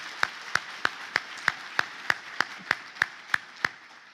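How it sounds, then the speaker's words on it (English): Slow, regular claps, about fourteen evenly spaced, stand out over a faint background of scattered clapping from the audience at a healthcare awards ceremony honoring the judges. "Let's give a round of applause to our judges."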